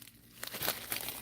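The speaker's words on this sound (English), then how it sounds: "And we'll open up our Bargain Bead Box." Plastic packaging of a Bargain Bead Box being opened, soft crinkling and rustling that starts faint, then swells into a few louder crackles, close up and alone.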